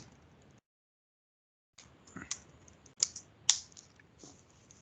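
Keystrokes on a computer keyboard while a SQL command is entered, a few soft scattered taps after a brief silence, with a couple of sharper, louder clicks near the end.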